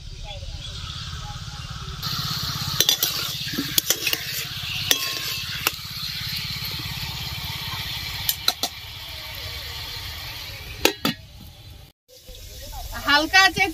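Pointed gourd (potol) frying in hot oil in a home kitchen gives a steady soft sizzle throughout, broken by clinks and scrapes of a spatula stirring the pan, with a brief gap near the end.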